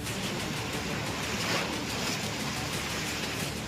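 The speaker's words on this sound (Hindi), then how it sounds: "लहरों का ये शोर डराता है, खौफ से भर देता है।" Floodwater at the Son Barrage in Rohtas gives a dense, unbroken roar of crashing waves that stays loud and even throughout.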